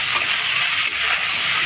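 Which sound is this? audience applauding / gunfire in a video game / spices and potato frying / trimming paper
spices and potato frying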